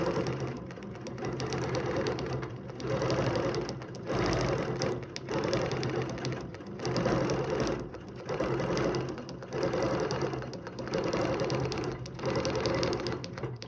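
A sewing machine runs steadily while stitching a quilting design, its motor humming in several long bursts separated by brief pauses at corners, close and fairly loud with no talking.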